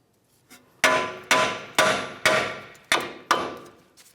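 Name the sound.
hammer striking tie rod end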